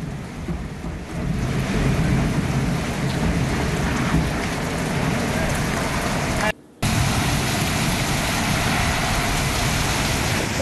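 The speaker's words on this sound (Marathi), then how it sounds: "परळीत मुसळधार पाऊस झालाय" Heavy rain from an unseasonal storm pours down in a dense, continuous roar, with a brief cut in the middle before the downpour resumes.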